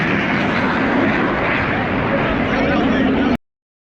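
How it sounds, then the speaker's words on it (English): An F-18 Hornet fighter jet roars with a dense, loud, broadband rumble that holds steady for several seconds and then cuts off abruptly. "The F-18 Hornet, a machine that roars through the skies at supersonic speeds."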